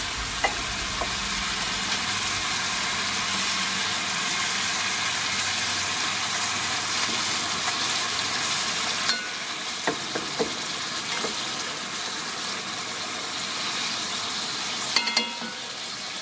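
Ground meat for lasagna sizzles steadily in a hot pan while it is broken up, a loud, continuous frying hiss with occasional scraping taps of a utensil against the pan.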